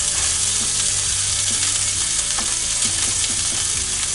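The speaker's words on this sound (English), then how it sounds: "So this is going to cook for a couple minutes on each side." Salmon fries in a cast iron skillet with a steady, dense, loud sizzle that continues without a break, heard close up and alone.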